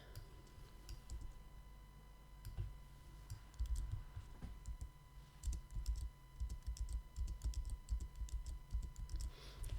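Keys on a computer keyboard are tapped in quiet, close, uneven bursts of clicks, with a few short pauses, over a faint steady electrical hum and no voices.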